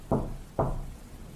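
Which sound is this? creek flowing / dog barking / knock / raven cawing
knock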